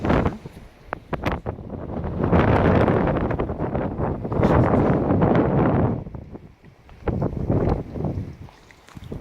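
Wind buffets an outdoor microphone in loud, roaring gusts that swell for several seconds, ease off briefly, and surge again, with no talk over them.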